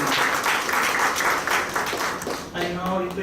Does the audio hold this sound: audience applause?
yes